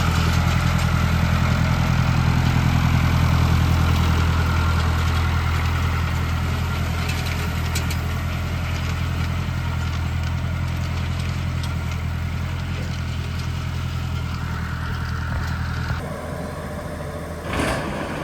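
Red tractor engines running steadily in a hay field during baling, a loud continuous mid-range drone that holds for most of the stretch before shifting near the end, with no voices.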